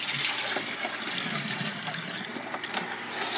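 Watering can with its tip cut off dipped into a tub of compost tea, a dense gurgling, sloshing fill of liquid that stays loud and close throughout.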